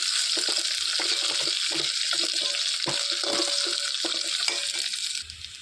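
Cut green chilies frying with garlic in hot oil, a dense steady sizzle with intermittent clinks and stirring scrapes of a spoon in the pan, continuing loudly until it fades at the end.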